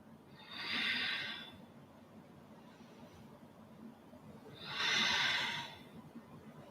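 Two long, soft, breathy exhales during a vinyasa flow yoga session, each lasting about a second, close and moderately loud, separated by quiet room tone.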